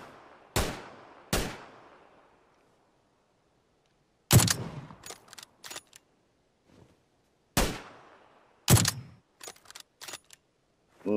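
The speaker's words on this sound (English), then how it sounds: "I'm shooting the vehicle because he's behind it." Video game gunfire aimed at a vehicle: loud, sharp shots in separate bursts, each a few single cracks or a quick volley, with silent gaps between them and no talk.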